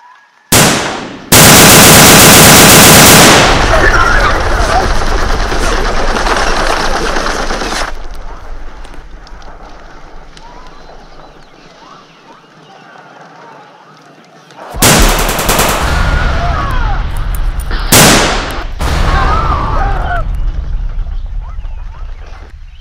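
Rapid machine-gun and gunshot bursts from a plastic army men short film, loud and dense at the start, then fading, with a second round of heavy firing and sharp shots later; a voice can be heard briefly.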